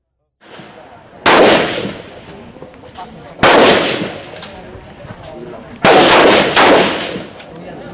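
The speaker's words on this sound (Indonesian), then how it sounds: "diberikan kesempatan untuk latihan menembak baik menggunakan laras panjang maupun pendek" Rifles and pistols fire at a shooting practice session, with three loud, close shots sharply spaced apart, each followed by a ringing decay over a low background murmur.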